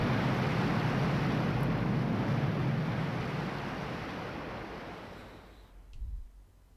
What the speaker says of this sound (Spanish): El agua bajando.